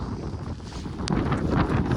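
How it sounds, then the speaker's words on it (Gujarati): Steady, strong wind roars and buffets the microphone on Girnar mountain, growing gustier halfway through, with no voices. "વાયરો બહુ મસ્ત આવે છે, પવન બહુ સ્પીડમાં છે"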